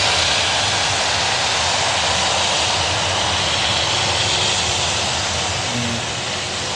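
An aircraft engine roars steadily and loudly at Manchester Airport, a broad, continuous rushing whine holding for several seconds and easing slightly toward the end.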